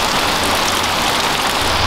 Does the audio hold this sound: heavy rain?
yes